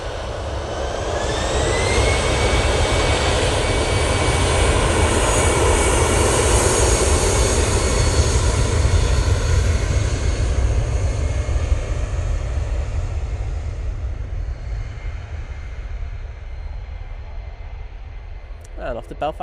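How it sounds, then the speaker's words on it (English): An Aer Lingus ATR 72 turboprop airliner flies overhead, its loud propeller drone with a rising whine swelling early, holding strong, then gradually fading into the distance, while a person talks over it. "I think you can hear the Aer Lingus prop coming over. It's the ATR 72."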